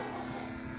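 A small propeller plane in flight makes a brief, steady engine and propeller drone, with no voices.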